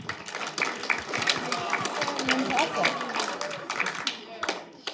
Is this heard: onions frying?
no